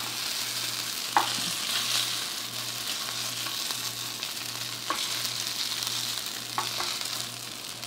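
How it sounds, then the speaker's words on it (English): Mung bean pancake pan frying over medium heat: continuous close sizzling and crackling of oil, with a few light taps or scrapes from a utensil against the pan and no voices. "So you have to fry the both sides thoroughly."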